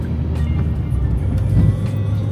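A car rolls slowly over icy asphalt, heard from inside or close by as a low, steady engine and road rumble with faint crunching texture, continuous across the short stretch.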